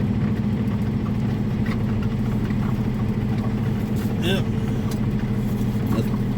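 A big truck engine idles with a steady low rumble throughout while being parked in the snow, a brief spoken word heard over it.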